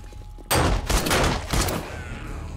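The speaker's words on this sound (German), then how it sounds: "bei mir war auch jeder Schuss ein Treffer, Jasmin." A sudden volley of rapid gunshots in the video game 7 Days to Die erupts after a quiet moment, then a second burst follows before the firing fades into lingering rumble.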